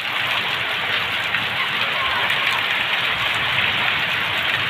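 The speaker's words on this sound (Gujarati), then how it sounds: "આરામ હારો વરસાદ આજનો" Heavy downpour over a village in Savarkundla taluka, Gujarat, a dense, steady roar of rain hammering surfaces without pause, loud and close throughout.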